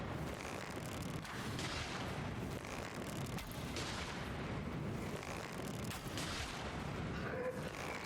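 Cannons booming and exploding in Elden Ring, a steady barrage of deep rumbling blasts and impacts layered into a dense continuous roar.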